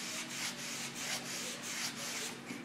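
Sandpaper rubs back and forth over a cedar plank board in steady, even strokes, close and fairly quiet, with no voices.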